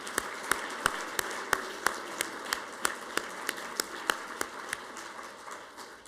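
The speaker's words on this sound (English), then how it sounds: "join me in a round of applause for our wonderful sponsors" Sparse, scattered clapping from an audience at a family medicine commencement ceremony, individual hand claps spaced out over a low room murmur, fairly faint.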